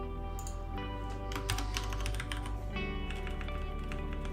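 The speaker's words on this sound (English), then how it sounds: "So I start typing Office 365" Typing on a computer keyboard at an office desk: soft, steady key clicks in irregular quick runs, faint and close, set against a constant low electrical hum with no voices.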